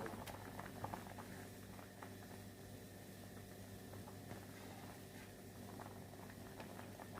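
A pot of water for Thai red curry with pork and eggplant bubbles and churns continuously at a rolling boil, a steady low burbling with scattered pops, fairly close and moderately quiet.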